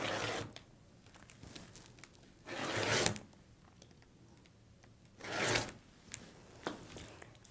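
Paper being cut into strips of two different widths for collage, heard as three separate bursts of dry rasping and swishing strokes spaced a few seconds apart, close and fairly quiet, with no talk.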